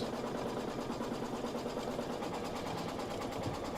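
A sewing machine running steadily as it sews a basting stitch on a quilting project, a continuous fast mechanical whir at a fairly low level.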